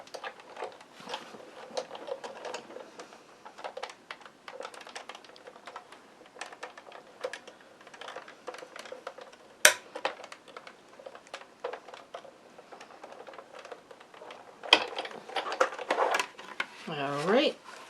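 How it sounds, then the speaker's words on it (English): A die cutting machine cranked through with a card and embossing die, faint irregular clicking and ratcheting in a quiet room, with a louder grinding pass and squeak near the end. "Now I'm going to put that on my die cutting machine"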